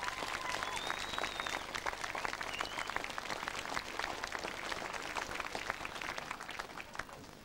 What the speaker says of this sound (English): let's do another round of applause for him